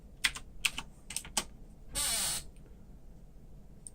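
Keys clatter on a computer keyboard as a voltage value is entered in a Ryzen 1700 BIOS, a few quick separate presses then one longer burst, close and quiet.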